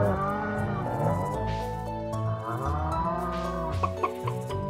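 Cows moo in the farming video game Stardew Valley, with several drawn-out, overlapping lowing calls close by against a steady background of game sound.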